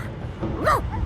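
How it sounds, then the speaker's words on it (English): A dog in the Divinity: Original Sin 2 video game lets out a short, close, rising-and-falling whine over a soft, steady game background. "The dog whines and continues pawing at its nose."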